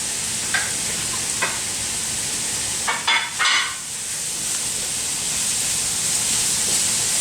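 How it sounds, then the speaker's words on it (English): Peppers dropped into hot olive oil in a pan give a steady, bright sizzle, with a couple of louder crackling bursts partway through before it settles back into an even hiss. "We're going to add in a little bit more olive oil. And we're going to add in our peppers."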